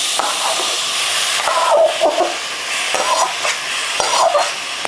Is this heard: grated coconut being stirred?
yes